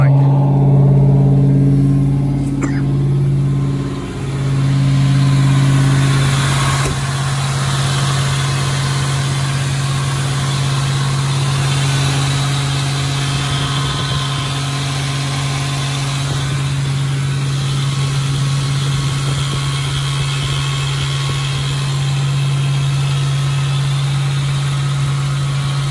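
A 1986 Chevy Silverado truck engine idles steadily after a cold start, with a loud, constant low rumble and a brief dip in the first seconds before settling into an even drone.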